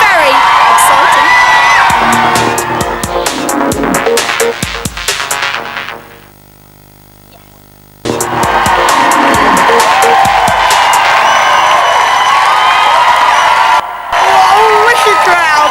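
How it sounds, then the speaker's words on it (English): A studio crowd cheers, whoops and yells loudly at the Big Brother 2002 finale; the noise cuts away for about two seconds, then the roaring cheers resume and carry on. "Wicked crowd tonight"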